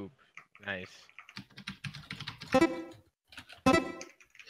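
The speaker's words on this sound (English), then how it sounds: "I just tried to type it slow so I'd get it versus typing it fast and messing up." Slow typing on a computer keyboard produces scattered, distinct key clicks at an unhurried pace, with voices talking over and between the keystrokes.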